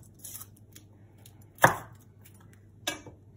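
A knife chops through the ends of garlic cloves on a cutting board: a few sharp, crisp single cuts, one loud and distinct, another lighter, with quiet gaps between.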